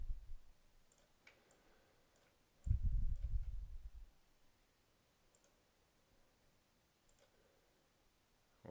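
Sparse, quiet mouse clicks land one at a time while placing path points in Photoshop, with a low thud partway through and near silence between clicks.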